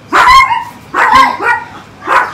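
A neighbouring small dog barks three times in short, loud, close bursts, with no talk over the barks.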